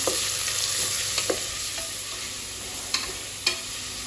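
Onions frying in ghee in a pan for chicken ghee rice give a steady, close hiss, broken by a few soft scrapes and clicks of stirring.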